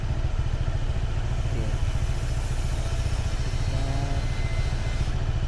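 A big motorcycle engine rumbles steadily nearby, a loud continuous low idle throb with faint clatter over it.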